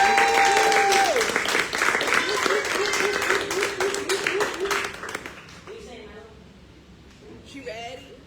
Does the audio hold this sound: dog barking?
no